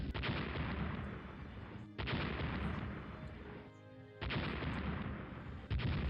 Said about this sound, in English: it's just destroyers right now all over the place. Ripping into each other, firing torpedoes